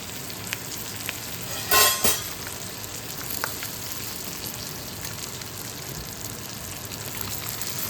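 A lemon rice seasoning of tempering spices with asafoetida is stirred in a hot pan. A continuous close sizzle carries a few light scrapes and one brief sharp crackling burst near the start, with no voices.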